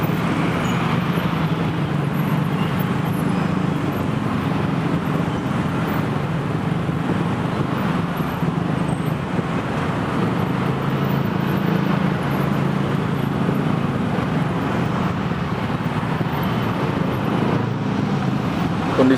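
Steady, dense roar of congested road traffic on a jammed street in Jakarta near elevated LRT construction, a continuous wash of car and bus engines and tyre noise with no pauses, moderately loud throughout.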